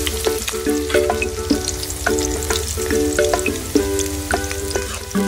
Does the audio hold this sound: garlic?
yes